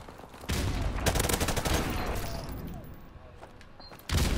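Heavy bursts of gunfire in Call of Duty Modern Warfare Remastered, a dense fusillade of shots close and loud, easing off before another sharp burst at the end.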